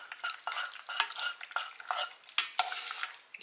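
A spoon stirs single-serving queso chicken mac and cheese, giving a steady run of wet, sticky scraping and squelching strokes close up, with no voices.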